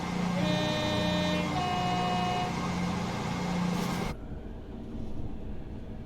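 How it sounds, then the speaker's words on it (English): In the Train Simulator Classic video game, a Class 222 train's horn sounds in several sustained blasts over a rumbling engine, then cuts off, leaving only the low rolling hum of the train. "Haven't had the chance to use the old train horn on this trip yet."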